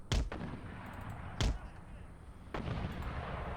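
Mortar rounds in the Empire Total War battle game hit in three separate heavy booms spread across a few seconds, each one a sharp thudding blast over a constant battlefield din.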